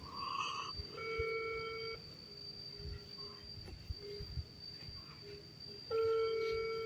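A phone call ringing unanswered, its faint repeating ringback tones rising over a dense background chorus of insects at night, with a few quiet noises in between and no clear speech.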